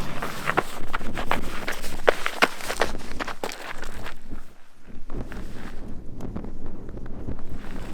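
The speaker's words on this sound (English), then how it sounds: "It's pretty windy still." Gusty wind on a peak above Tama Lakes, New Zealand, buffets the microphone in a steady roar, with crunching footsteps and rustling on top, easing briefly midway before picking up again.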